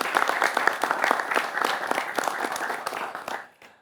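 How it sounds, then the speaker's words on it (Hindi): Dense, steady applause from a studio audience at an Indian election news program, many hands clapping together for a few seconds before it quickly dies away. "ताली बज सकती है"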